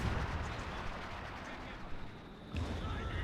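Artillery barrage in the Company of Heroes 2 strategy game; a dense, continuous rumble of distant explosions fills the clip, dipping briefly before surging again.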